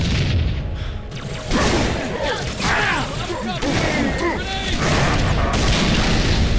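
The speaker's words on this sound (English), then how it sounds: "Grenade!" Halo 3 ODST gameplay: a grenade blast booms amid continuous loud combat noise and gunfire, with in-game voices shouting over the dense, sustained din.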